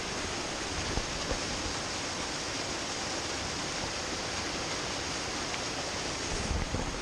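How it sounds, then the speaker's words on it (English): A small waterfall on a forest trek to Tadapani in Nepal, spreading across a rock ledge, a dense constant roar of falling water heard close and unbroken. "there's another little waterfall here"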